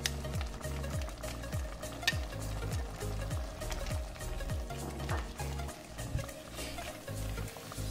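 Tomatoes fry in a pan with garlic added, giving a steady dense sizzle and crackle with scraping and stirring throughout, close and fairly loud, with no talking.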